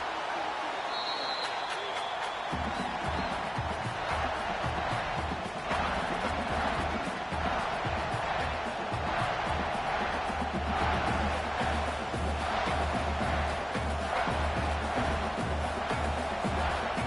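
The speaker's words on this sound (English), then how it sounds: "Listen to this crowd just shaking the girders of this place, trying to help their defense." A large stadium crowd in an EA College Football video game roars continuously during a Nebraska vs Minnesota game in Lincoln, a dense wash of cheering that swells and holds without letup, with a commentator talking over it.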